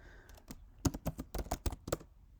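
Keys clicking on a MacBook Pro keyboard as a password is typed, a quick run of close, crisp taps in two bursts with short pauses between.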